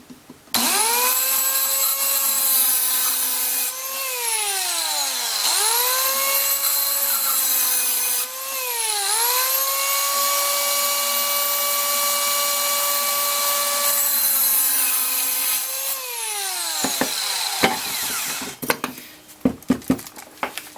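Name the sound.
Rockwell Versacut mini circular saw cutting wood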